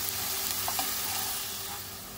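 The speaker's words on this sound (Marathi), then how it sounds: "तेल थोडं गरम झाले की कांदा घालायचा आहे।" Onion sizzling in hot oil in a pan, a steady bright hiss and crackle heard alone at close range, with a few soft stirring clicks partway through.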